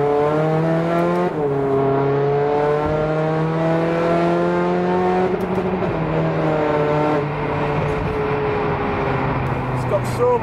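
A 386 bhp 2.0 TDI VW Caddy van with a DSG gearbox and four-wheel drive accelerates hard, its engine note climbing steadily with a shift partway through while a person talks over it.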